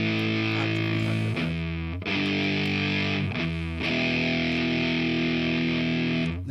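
Electric guitar played through a Hippie Fuzz pedal with reverb, loud sustained fuzzy chords that shift to new chords every second or two, with a thick saturated tone and a roomy wash.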